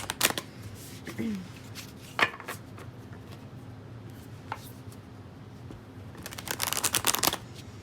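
Tarot or oracle cards being shuffled in a few crisp riffling bursts, close by, with quiet pauses between and a longer flurry near the end.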